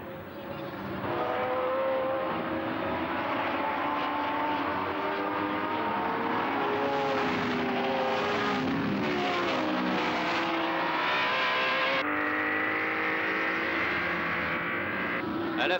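Racing cars circle a track in a grouped pack behind two leading cars, a steady, dense engine roar throughout with pitch sweeps as cars pass, a commentator speaking French over it.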